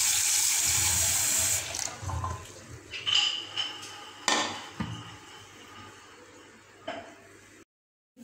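Green gram lentils are washed under a running kitchen tap: a rush of water pours for a moment, then gives way to splashing, swishing and light clatter as the lentils are rinsed, and the sound ends abruptly.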